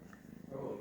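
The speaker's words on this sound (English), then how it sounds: "Yeah, he's purring." A cat purrs softly and close by, a low continuous rumble through the brief moment, with faint background noise.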